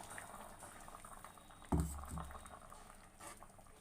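A pot of okra tamarind curry bubbles quietly at a steady simmer, with one louder burst of bubbling partway through.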